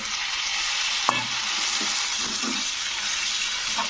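Drumstick and tomato curry with turmeric, chili and coriander powder and a splash of water, stirred in a pan: a steady wet sizzle with scraping spoon strokes and a sharp knock near the start.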